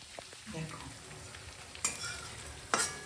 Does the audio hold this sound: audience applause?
no